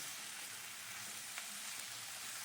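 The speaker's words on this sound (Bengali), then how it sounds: "খুব ভালো করে কষিয়ে নিতে হবে" Rohu fish curry with spring onion and bori fries in a pan, giving a faint, even sizzle with a couple of tiny pops, low in level and unbroken by speech.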